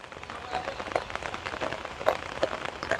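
Rain patters onto a terrace garden with plants and vegetable vines, with irregular drips and splashes over a soft steady hiss at a fairly low level.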